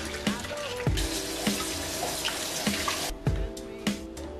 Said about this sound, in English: I always rinse it off first to get all that extra film